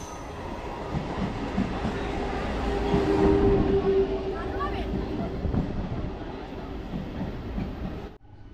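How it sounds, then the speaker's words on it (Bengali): A train rumbles into Jhaluarber station with a steady loud roar, faint wheel squeal and rail clatter, swelling near the middle, then fading with ambient noise before cutting off abruptly. "এক্ষুনি একটা ট্রেন আসবে যত সম্ভব।"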